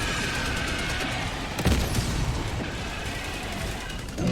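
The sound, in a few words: artillery barrage in a video game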